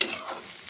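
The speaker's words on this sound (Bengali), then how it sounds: "এখানে আমি পেঁয়াজ, রসুন আর কাঁচা লঙ্কা ভেজে নিচ্ছি" Onion, garlic and green chilli frying in a pan, a short burst of close broadband sizzle with a faint scrape of stirring and a brief louder swell at the end.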